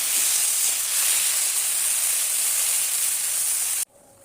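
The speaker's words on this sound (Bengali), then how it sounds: "দিয়ে দিলাম একটু সরিষার তেল হালকা, দিয়ে একটু ভেজে নেব" Garlic fries in mustard oil with a loud, steady sizzling hiss close by that cuts off abruptly near the end, leaving quiet.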